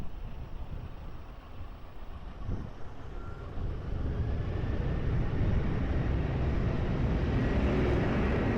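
A jet airplane taking off from runway 20 at Lisbon Airport, a low rumbling engine roar that swells and grows steadily louder and nearer over several seconds.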